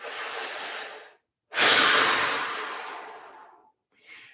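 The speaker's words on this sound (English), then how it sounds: "1 big breath here" A deep breath during a guided breathing exercise: a soft breathy exhale, a short pause, then a long loud airy breath that slowly tapers off, followed by a brief faint breath at the end.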